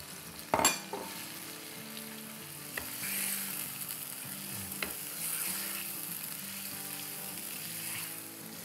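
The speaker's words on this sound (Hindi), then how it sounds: "बस इसको हम 2-3 मिनट भून लेंगे।" Yogurt masala frying in a pan for white chicken biryani, giving a low, steady sizzle with occasional stirring scrapes and one sharp clatter near the start, heard alone without voices.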